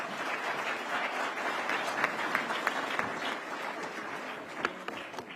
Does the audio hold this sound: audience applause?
yes